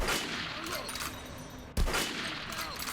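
Weapons firing on a shooting range in Metro Last Light, a steady run of rapid gunfire with one sharp, heavier shot cutting in partway, loud and close with game ambience behind.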